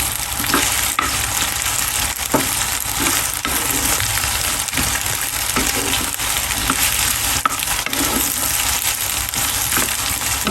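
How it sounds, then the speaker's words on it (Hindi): Okra sizzles steadily while frying in a pan for a spicy bhindi masala fry, a dense close hiss with small crackles and occasional stirring scrapes, with no talking. "अब मैं इसमें शामिल करती हूँ भिंडी। इसको करेंगे हम फ्राई हल्का कलर आने तक।"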